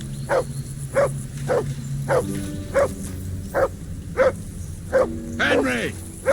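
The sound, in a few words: dog barking, from the video game Kingdom Come Deliverance II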